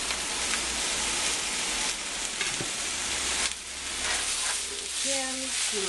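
Potatoes and chilies fry in a hot pan with a steady, close sizzle and crackle, with brief stirring and tossing noises partway through and a short burst of faint voice near the end.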